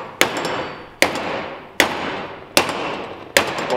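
A Toyota front wheel bearing being hammered down into its seat, five sharp metallic blows at an even pace about once every 0.8 seconds, each ringing briefly and close by, with no talking.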